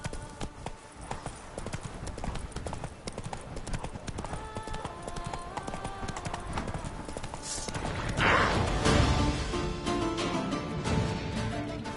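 Roach the horse galloping in The Witcher 3: Wild Hunt, with rhythmic clip-clop hoofbeats throughout, a brief neigh, and a louder burst of hooves and game sound near the end over light ambient music.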